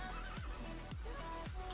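A horse in a Minecraft game whinnies three times in quick succession, each neigh a short rising-then-falling cry, clear and close with no talking.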